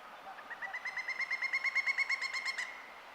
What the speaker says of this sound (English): The powerful kee-kee-kee-kee-kee that lets the whole forest know a pileated woodpecker is around.